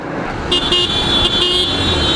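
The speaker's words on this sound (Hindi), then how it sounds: "The horn is quite average" A loud, steady horn on a 2019 Yamaha FZ V3 FI ABS motorcycle blares for about a second and a half over engine rumble, close by.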